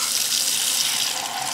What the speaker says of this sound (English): Can we rinse the dish?